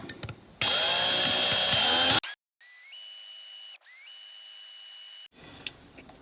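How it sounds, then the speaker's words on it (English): Power drill boring a hole into a Dinky Toys 23E Spirit of the Wind diecast toy car, three separate bursts of whining motor, the first loud with the pitch shifting under load, the later two steadier and quieter. "just drilling that last hole."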